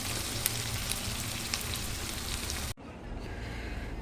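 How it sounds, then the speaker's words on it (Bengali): Jackfruit seeds frying in a pan, giving a dense, steady crackling sizzle like heavy rain that cuts off abruptly partway through and then returns more quietly, with no talking. "কাঁঠাল বিচির ভুনা করছি সেগুলো মাত্র বসিয়েছি একদম ভাজা ভাজা করবো"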